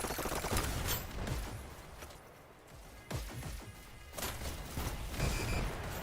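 SMG fire in a competitive VR shooter esports match comes in dense, loud rapid bursts of shots. The bursts repeat with brief pauses among other clattering game action.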